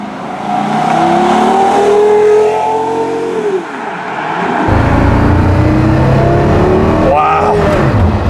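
A Porsche Carrera GT supercar engine revs loudly under part throttle, its pitch climbing and then dropping. After a short lull a deeper, rougher engine roar returns, with a brief rising rev near the end and faint voices in the background.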